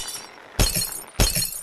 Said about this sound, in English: This is a glass break, after all, we have to get all of the last little bits of glass.